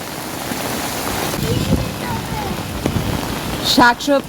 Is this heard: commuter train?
no